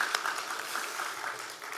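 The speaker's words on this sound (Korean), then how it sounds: "우리 하나님께 감사의 박수로 다시 한번 영광을 돌리겠습니다." A church congregation at a Sunday afternoon service claps briefly in thanks, a dense patter of applause at moderate distance.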